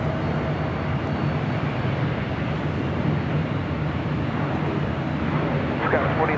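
An airliner landing on runway 24 right at Los Angeles International Airport, a steady broad engine roar holding at a constant loud level throughout.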